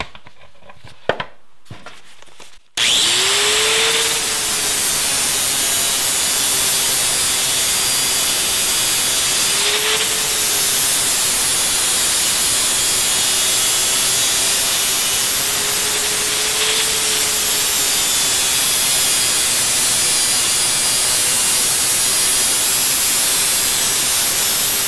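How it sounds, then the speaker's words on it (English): Flap disc grinder shaving down the edge of a homemade center console panel, a loud steady hissing grind after a brief start, running continuously near the mic with small rises in pitch, no talking. "I can just take my flap disc"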